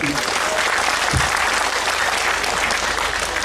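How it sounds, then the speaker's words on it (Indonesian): Applause from a crowd at an Islamic religious gathering fills the space as a dense, steady wash of clapping at even loudness from start to finish. "Ayo tepuk tangan dulu buat semuanya"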